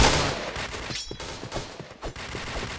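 Gunfire in the shooting game Point Blank, a loud burst of rapid shots at the start followed by scattered, fainter cracks and thumps.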